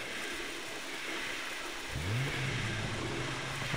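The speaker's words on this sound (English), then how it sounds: "Hear lots and lots of cars." Cars with rising engine roar approach in the Far Cry 3 video game, a low hum building into a revving, accelerating engine note after a quieter opening.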